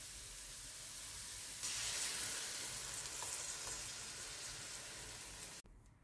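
Ready-made tomato sauce hitting a hot pan of caramelized onion and canned tuna, a loud continuous close sizzle that swells as the sauce goes in, then holds steady before cutting off abruptly.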